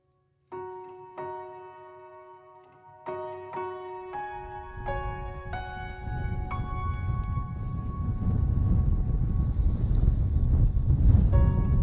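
Wind on a breezy beach in North Uist in the Outer Hebrides rises from quiet into a heavy, blustery rumble, starting under clear melodic notes that fade as the gusts grow louder.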